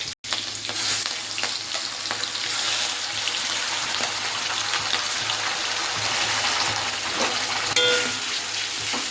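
Onion paste sizzles and fries steadily in hot oil with black cumin and whole chillies for a hilsa curry, a close, continuous crackling hiss with occasional stirring.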